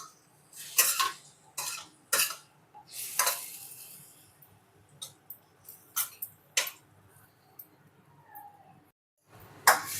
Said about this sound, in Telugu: నెక్స్ట్ ఉడకబెట్టుకున్న చిక్కుడుకాయ ముక్కలను వేసుకొని మిక్స్ చేసుకోవాలి.